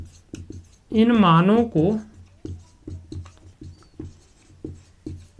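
Chalk or marker scratches an equation onto a board in short, rhythmic strokes, faint and close, while someone speaks briefly over part of it.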